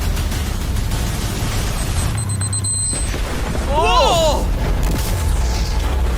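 A car explodes in a game show stunt: a heavy, rumbling boom rolls under a continuous noisy roar, with a squealing, warbling tone rising briefly midway.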